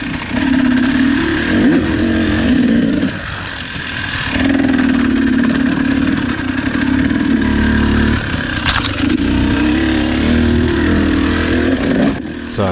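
A KTM two-stroke and a Honda CRF four-stroke motocross bike race close by, engines droning loudly and steadily with dips and surges in pitch as the riders ease off and power through the corners.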